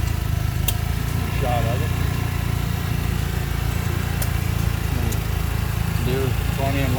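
Old stationary engines running steadily at a tractor and engine show in Portland, a continuous low mechanical chug with occasional clinks, while someone talks briefly over it.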